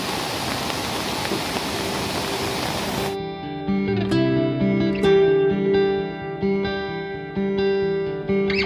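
A rain-swollen stream rushes hard through village countryside, a loud, dense, steady roar that fills the first three seconds before giving way to music.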